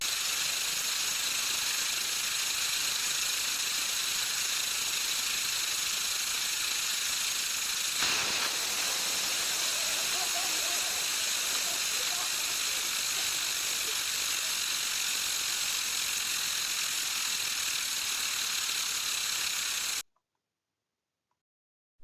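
Magnesium fuel fed into a Stirling engine reacting violently, a steady loud hiss like rushing steam with a sharp burst partway through, then an abrupt cut to silence.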